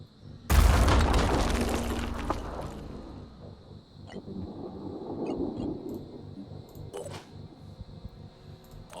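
A grenade blast in the tactical video game Phoenix Point: one loud, deep boom that rumbles and fades over about two seconds, followed by quieter low game ambience and faint rattles.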